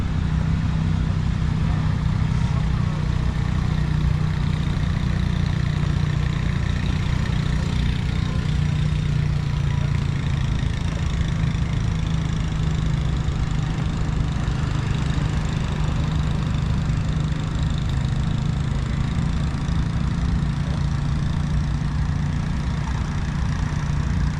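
A Steiger 50th anniversary tractor idles at a farm machinery show, a steady, unbroken low diesel rumble holding a constant pitch throughout, nearby and moderately loud with no talk.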